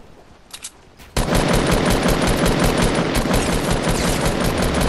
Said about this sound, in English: shots coming in